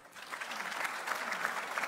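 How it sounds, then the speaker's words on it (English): An audience in a hall at a Namibia–Botswana plenary session applauds a cultural group, a steady, fairly distant wash of clapping with no let-up. "let us give them another resounding applause"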